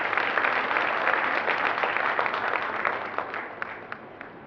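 An audience at a Jain sermon in Papora ji claps together, a dense, steady wash of applause from many hands that gradually thins and fades toward the end, with no talking over it.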